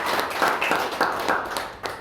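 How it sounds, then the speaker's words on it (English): A small group gives a brief round of clapping for a guest at a poetry festival interview, a few scattered hands patting unevenly at close range with no voices. "I think he needs a round of applause"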